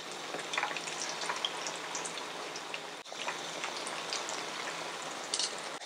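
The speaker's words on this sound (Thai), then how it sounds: "ตั้งกระทะใช้น้ำมันเยอะนิดนึงนะคะรอให้ร้อนนิดนึงแล้วก็ใส่ไก่ที่เราหมักไว้ค่ะลงไปเลย" Marinated chicken sizzles in plenty of hot oil in a pan, a soft, steady crackle and spatter like light rain that continues throughout at low volume, with no talking.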